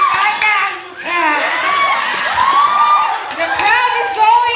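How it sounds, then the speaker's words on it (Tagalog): Loud crowd at a pageant cheering, shouting and whooping continuously, with excited voices and children's shouts layered over one another. "The crowd is going crazy!"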